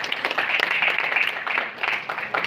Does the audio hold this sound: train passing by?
no